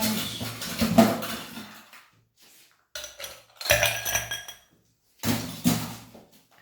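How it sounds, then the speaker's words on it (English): Ice cubes dropped into a glass for a vodka and orange screwdriver cocktail: three separate bursts of clinking and rattling with short quiet gaps between them, close and fairly loud. "First, put some ice."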